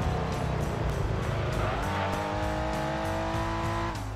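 A race car in the video game Gran Turismo 2 launches from a standstill with a loud, steady engine roar, then shifts up a gear partway through and its engine note climbs again, with no talking.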